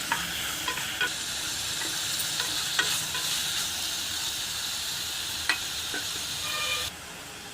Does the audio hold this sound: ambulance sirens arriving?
no